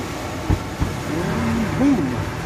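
A Goodman/Amana gas furnace fires up: two sharp clicks of ignition, then a low rumbling burner roar that swells and holds steady at moderate distance, with no talking.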